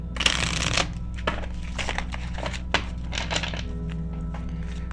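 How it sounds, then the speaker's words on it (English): Tarot cards being shuffled by hand, a burst of riffling followed by repeated soft slaps and thunks as the deck is cut and squared, close and clear with no speech. "I apparently cannot shuffle cards today."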